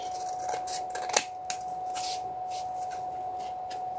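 Scissors snip through paper card in a few short, crisp cuts, close and fairly loud, with a steady faint tone underneath and no voices.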